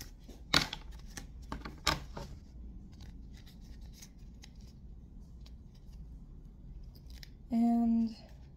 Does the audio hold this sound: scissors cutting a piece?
yes